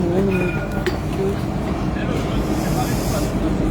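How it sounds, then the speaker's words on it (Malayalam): Riding inside a moving train, a constant low rumble and rattle of the carriage fills the space, with brief squeaks and a voice speaking over the noise. "അങ്ങനെ ഞാന് ട്രെയിനിൽ കയറിയിട്ടുണ്ട്."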